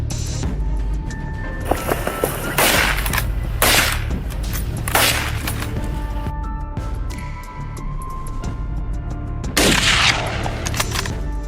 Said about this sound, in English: from Kevin's position, gunfire echoed as more were stopped